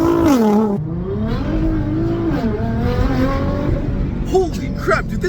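A Nissan GT-R accelerating hard, its engine note climbing through gears in rising and falling harmonic sweeps, loud and close with a brief shift dip, while people shout excitedly over it.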